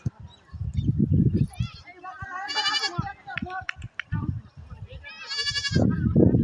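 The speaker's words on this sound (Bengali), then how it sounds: "ওই যে ছাগল।" Goats bleating in two loud, wavering calls, close by, amid a child's and adults' voices talking in an outdoor setting.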